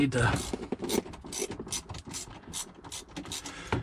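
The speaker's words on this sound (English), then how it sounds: "So I got a little socket in there" A small socket ratchet works loose a tight Torx screw on a Jeep Wrangler JKU during clock spring replacement, a rapid series of close, loud pawl clicks in uneven bursts.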